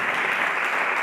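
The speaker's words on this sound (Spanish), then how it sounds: "En un fuerte aplauso al Señor." Church congregation applauding at a Spanish-language worship service, a dense, steady wash of many hands clapping at once, loud and close throughout.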